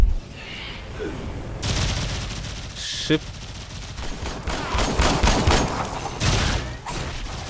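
Gunfire in the video game Warframe, bursts of rapid automatic shots and single cracks, loud and close, interrupted by pauses, with a voice speaking between volleys.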